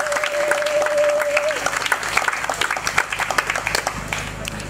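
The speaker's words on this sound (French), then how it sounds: "Applaudissons pour Jésus." A congregation at a funeral wake in Kinsuka bursts into sustained applause, dense clapping from many hands filling the room, with a voice briefly audible at the start.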